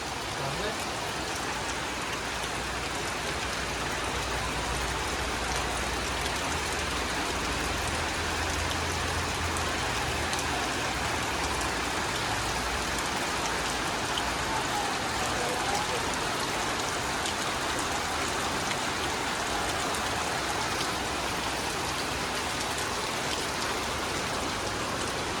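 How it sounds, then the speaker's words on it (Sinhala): Steady, heavy rain falls on a rainy day at a boarding house, a dense continuous hiss and patter that stays even and close throughout, with no distinct voices standing out. "අද ලස්සන වැස්ස දවසක්."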